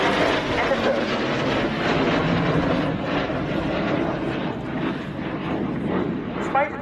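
An Italian Air Force Panavia Tornado A-200 jet roars past in a flying display at an airshow, a loud, sustained broadband jet rumble, with an announcer speaking over it.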